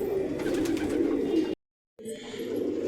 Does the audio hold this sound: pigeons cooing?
yes